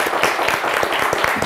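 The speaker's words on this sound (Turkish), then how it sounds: "Elvan Hanım'a bir alkış" A Turkish television word-game studio audience applauds, a close, lively burst of many hands with distinct individual claps popping through the steady clatter.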